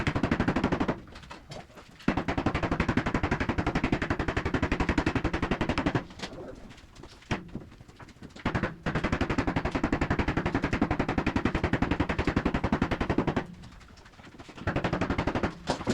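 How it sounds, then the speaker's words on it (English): Railing sections being pounded down into place during a vertical spindle railing installation, a rapid series of loud, sharp back-and-forth impacts that come in bursts separated by short pauses. "it's lots of back and forth pounding it down"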